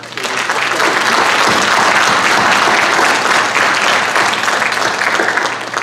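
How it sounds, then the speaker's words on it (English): A large audience at a school safety summit gives a panel a long, loud round of applause, a dense and steady roar of clapping that holds at full strength throughout. "let's give this panel a big round of applause"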